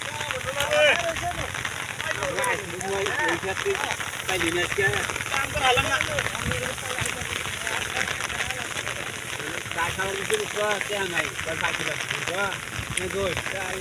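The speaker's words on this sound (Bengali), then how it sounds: "প্রচুর বৃষ্টি বৃষ্টির মধ্যে দেখেন কিভাবে সবাই কাজ করতেছে" Steady rain pattering on surfaces with people talking throughout as they weed a rice paddy field, the downpour constant beneath the voices.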